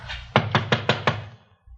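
Five sharp, evenly spaced knocks on a backstage door with a star on it in a radio drama, close and distinct, then quiet.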